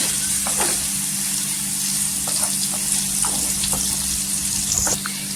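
Chopped onion and green chili frying in oil in a pan, a continuous bright sizzle with a steady low hum beneath and occasional faint stirring clicks, close and fairly loud throughout.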